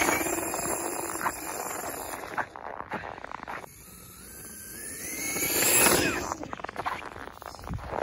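Four-wheel-drive Traxxas E-Revo 2.0 RC car run at full throttle, its electric drive giving a high, squealing whine that surges and sweeps upward, with bursts of gritty crunching and rushing noise as it races near and away.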